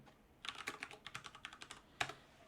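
Typing on a computer keyboard into a password box: a quick, fairly close run of light key clicks over about a second and a half, then a pause and one firmer final keystroke.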